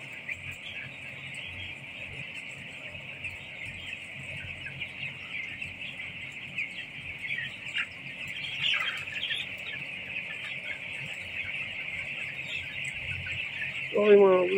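A dense flock of chickens clucks and chatters continuously inside a poultry farm house, a steady mid-distance murmur with occasional louder squawks and a brief close sound at the end.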